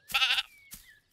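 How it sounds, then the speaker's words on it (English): A single close cartoon sheep bleat, wavering and nasal, followed by a short softer call. "But the sheep had made their own ringtone."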